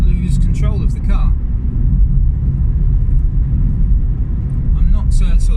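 Car driving along a bumpy country road near Sevenoaks, a loud steady low rumble of engine and road noise filling the cabin, with someone talking briefly at the start and end.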